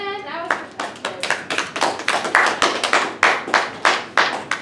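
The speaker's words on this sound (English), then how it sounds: "Thank you so much for clapping" An audience at an improv festival show claps, rhythmic bursts of hand claps that start after a brief trailing voice, fairly close and steady, with some sounding in near-unison.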